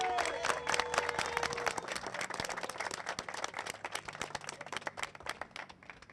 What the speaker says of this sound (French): c'est pour ça que je demande d'applaudir pour vous